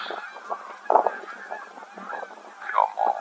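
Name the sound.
flock of geese honking after leaving a pond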